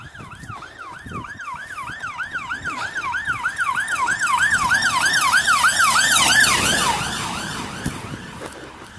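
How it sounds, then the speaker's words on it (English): A police car siren wails in a rapid, rising and falling pattern as the car speeds past on a village road at Potten End. It grows loud as it approaches, then fades away. "Obviously just passed a police car, just flew past us."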